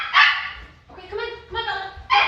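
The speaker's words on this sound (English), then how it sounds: "we're just gonna have to deal with the dogs." Dogs bark indoors close by, a few sharp yips and whining barks in quick succession with a voice talking among them.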